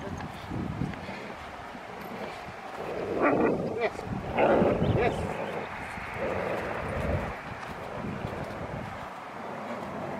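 Rottweiler barking during outdoor protection training, a few rough barks in the middle under wind noise, with people talking and calling out around it.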